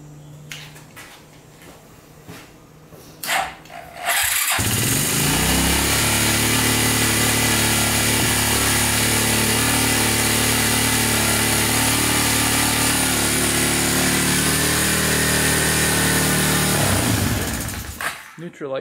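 An ATV engine cranks after a starter repair, catches and settles into a loud, steady, close idle that runs for many seconds before cutting off near the end.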